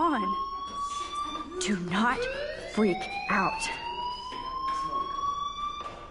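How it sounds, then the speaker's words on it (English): A fire alarm rings in the Life is Strange video game, a steady electronic tone held throughout. A voice talks over it. "Do you hear that fire alarm?"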